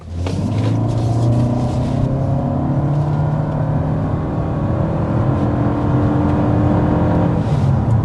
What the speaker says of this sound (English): we're going to go ahead and start with a hard acceleration to see what this hybrid powertrain's all about